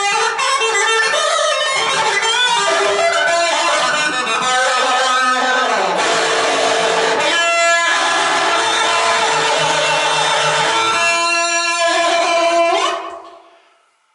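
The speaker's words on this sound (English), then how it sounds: "Sounds like the cry effect, and also flanger." Continuous, dense electric guitar through a Zoom GFX1 with a nasal, sweeping cry (wah-like) effect and a whooshing, jet-like flanger swirl speeding up, ending in a fade.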